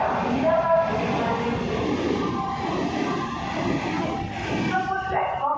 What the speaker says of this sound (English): Through train will be passing from platform number 2.